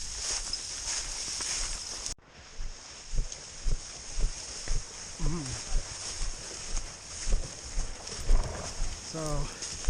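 Hooves of a single draft horse hauling logs on a November day in the woods, a steady rhythmic plodding clop repeating through the clip amid outdoor ambience, with brief bird or animal calls near the end.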